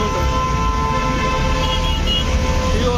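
Auto rickshaw horns honk amid dense Tamil Nadu street traffic, several sustained toots layered over a constant loud rumble of engines and road noise.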